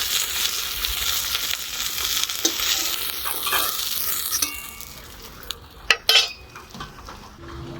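Fried fish being lifted out of sizzling oil, with a continuous frying hiss, scraping stirs and a few sharp metallic clinks of a utensil against the pan toward the end.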